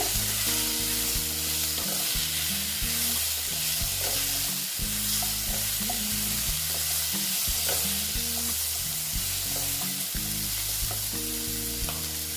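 Pieces of sweet pumpkin fry in a pan with a dense, even sizzle and crackle that holds steady throughout, heard up close with no one speaking.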